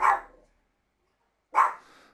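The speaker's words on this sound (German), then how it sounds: "Ah, das ist meine Hündin." A female dog barks twice indoors, each a sharp, close, fairly loud bark about one and a half seconds apart, with silence in between and no talk.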